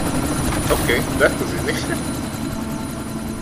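A helicopter in the video game Deus Ex: Mankind Divided gives a steady rotor and engine drone beneath a player's brief spoken remark, fairly constant in level throughout.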